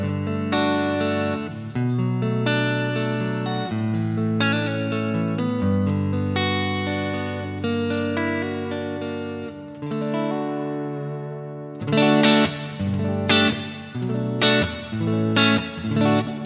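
Electric guitar played through a Neural DSP Quad Cortex modeler with an EQ block engaged, low and high cut tightening the distorted, chorus-tinged tone; sustained chords and riffs ring out loud and steady with reverb and no talking.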